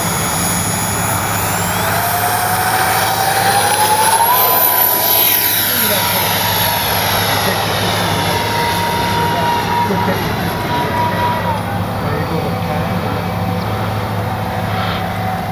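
An X-Fly F-15 RC model jet with a 40 mm engine whines loudly and steadily, its pitch sliding up and then holding as it flies past, with a voice speaking faintly underneath.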